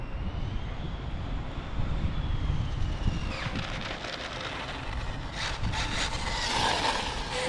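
An Arrma TLR Castle Cobra 8 RC car runs at full throttle outdoors, a steady high-pitched electric motor whine that shifts in pitch as it passes, over constant wind rush.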